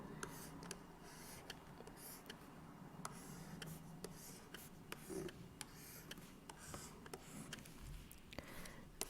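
A pen squeaks and taps faintly across a board as a diagram of a rectangular box is drawn in a maths lesson, with short scratchy strokes and clicks at a quiet distance.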